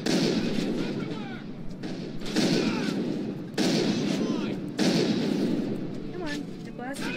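Shotgun blasts from the video game Mass Effect, loud bursts repeating every second or so amid constant combat noise, with voices talking throughout.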